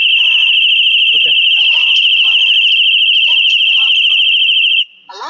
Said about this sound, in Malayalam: ഇനി നമ്മൾ ഡോർ ജസ്റ്റ് ഓപ്പൺ ചെയ്യുന്ന സമയത്ത് അലാം.